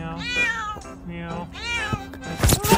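A cat meows twice in close succession, loud and near, followed by a burst of rustling noise.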